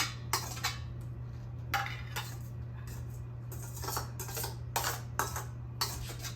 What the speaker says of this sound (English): So now I'm just gonna spoon that into our cheese mixture